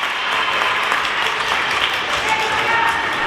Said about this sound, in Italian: torna in panchina tra gli applausi delle compagne